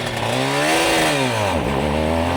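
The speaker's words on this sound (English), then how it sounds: "give it a bit of rev" A Suzuki RG500 motorcycle engine running rich, revved up close: a loud, raspy tone climbs, eases, then dips sharply before picking up again, with no talking.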